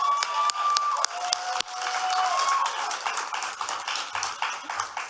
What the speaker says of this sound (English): So can we give Sarah a big round of applause?